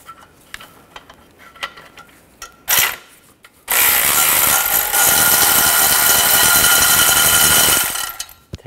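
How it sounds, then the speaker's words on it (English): A socket ratchet works the converter nuts on a Chevy Cruze during an oil filter housing job. Brief clicks and knocks lead into a loud, sustained whirring ratchet run of about four seconds, close by, with no talk. "support the converter using a 10 millimeter socket and then take these two nuts off"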